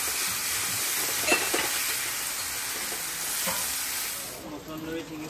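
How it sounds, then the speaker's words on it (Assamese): Fish curry sizzles and fries in a pan at home, a loud, steady hiss with occasional stirring scrapes that carries on alone. "মাছৰ তৰকাৰী বনাই আছে"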